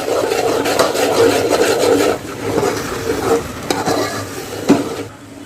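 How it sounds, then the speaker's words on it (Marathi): Chicken fries in a pan with a loud, close sizzle, interrupted by repeated scraping and knocking as it is stirred, fading slightly toward the end. "फ्राय करून घ्यायचं आहे आधी"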